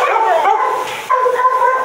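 Dogs in a hot outdoor kennel area give high, whining yips and barks, a close, fairly loud run of overlapping calls with a brief dip midway and no talk.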